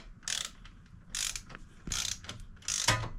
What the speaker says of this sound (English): So first thing that I want to torque is a rear axle pinch bolt.